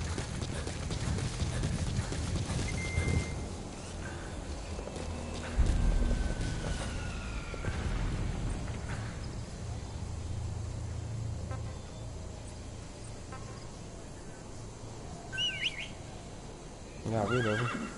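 Horse hooves clip-clop at a gallop with a whinny in Metal Gear Solid V: The Phantom Pain, steady under game ambience with a brief louder burst midway and voices talking over it.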